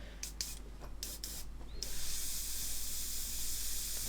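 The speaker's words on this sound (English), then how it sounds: "And I'm going to do a little bit of spraying for you." An airbrush sprays green model paint while finishing a 1/72 Arma Hobby Curtiss H75 Hawk kit, opening with several short hissing bursts, then settling into a steady, close, continuous hiss.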